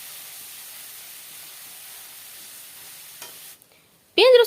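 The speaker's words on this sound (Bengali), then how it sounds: "এবার রসুন আদা বাটাটাকে আমি ভালো করে ভাজি নেবো সময় নিয়ে।" Garlic and ginger paste fries over low to medium heat in a pan for mutton curry, giving a faint, steady sizzling hiss. A short pause follows, then a sharp, louder burst of sound at the end.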